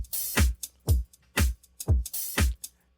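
A hip-hop drum loop run through a Camel Crusher British clean preset, with punchy kicks and bright snare hits repeating in a steady groove, up close and with no talking.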